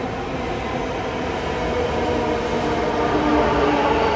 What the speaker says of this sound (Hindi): तो यहाँ पे आज अपनी बैंगलोर मेट्रो की सवारी, चलिए चलते हैं अंदर।